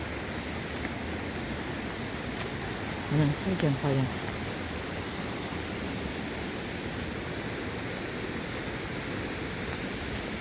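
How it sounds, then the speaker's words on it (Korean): A mountain stream flows among rocky cliffs at Danyang Jungseonam, producing a steady broadband rushing that holds evenly throughout, while a person briefly speaks over it. "물소리 들으시죠?"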